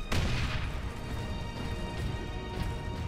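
Heavy cannon fire in the Space Marine video game lands as a deep, rumbling boom at the start, followed by rolling low battle noise and a second, softer blast near the end.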